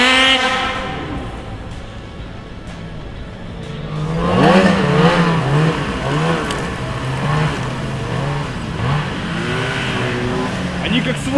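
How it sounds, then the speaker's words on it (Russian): Turbocharged snowmobiles circle close by on snow, engines whining and rising in pitch as they accelerate and pass, with voices talking over the engine noise. "В этих снегоходах, короче, они турбовые."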